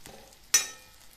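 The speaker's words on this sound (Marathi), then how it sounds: "याच्यामध्येच मी आता खसखस घालते आणि आता हे परत छान परतून घ्यायचं आहे" Poppy seeds hit a hot pan for kaleji masala with a sudden sharp sizzle that fades quickly, set against quiet low kitchen background noise.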